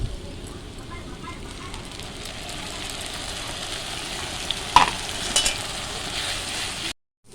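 Masala spices fry and get stirred in oil with golden onions in a pan for dhaba-style egg curry. A steady close sizzle runs throughout, with a few scraping clinks near the end before the sound cuts off abruptly.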